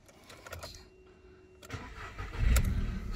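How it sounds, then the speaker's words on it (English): A white VW Polo 1.2 engine cranks briefly and fires, settling into a steady idle, heard close and clear with no talking. "Start it up."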